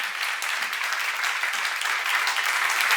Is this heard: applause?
yes